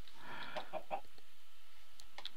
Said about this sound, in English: Hey chickens. Just chickens in here.